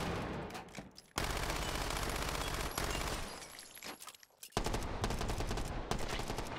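Rapid bursts of automatic gunfire from Uzis and other weapons in the VR shooter Hot Dogs, Horseshoes & Hand Grenades, loud and dense, broken by short pauses between volleys.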